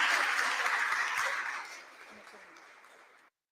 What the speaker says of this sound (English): Really, applause for Christian.